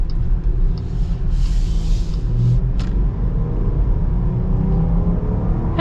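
A 2022 Jeep Grand Cherokee Trailhawk with a V6 engine is driving, heard from inside as a steady low engine and road rumble with faint whooshes of air over it.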